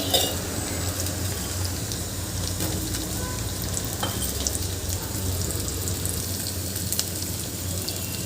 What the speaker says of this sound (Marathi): इथे आपण पूर्ण बटाटे घालून घेतले आहे याला छान मिक्स करून घ्यायचं आहे